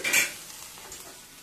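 Okra sautéing in a little oil: a brief scrape and sizzle at the start, then a soft, steady hiss that fades to a low simmer. No voices.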